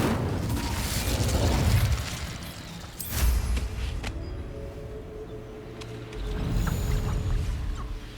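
Incendio fire spell cast in Hogwarts Legacy: a burst of whooshing flame with booming impacts, one surge at the start, a sharp blast near three seconds and another swell toward the end, loud and close with no talk.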